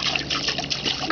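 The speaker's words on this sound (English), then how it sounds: "Oh, you're splashing. You're splashing." Water splashing in a wading pool on a hot day, a quick run of close, fizzy splashes and trickles over about a second.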